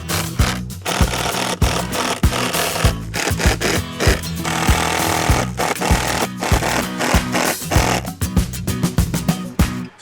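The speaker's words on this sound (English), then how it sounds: "to attach it to the house, I'm going to use exterior screws, and to make life easier, I'm going to actually start the screws down here" A power drill drives exterior screws into Azek PVC shutter boards, with loud close buzzing bursts broken by brief pauses and gritty rattling as the bit bites, no speech.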